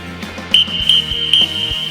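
Three short, shrill whistle blasts in a row at an archery range, each brief and piercing, over a low background hum.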